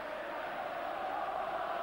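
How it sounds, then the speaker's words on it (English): A large football crowd roars and chants in unison for Rangers inside a stadium during a European Cup tie against Sparta Prague, a dense, sustained wall of distant voices with no breaks. "You can hear the vocal support right now for Rangers."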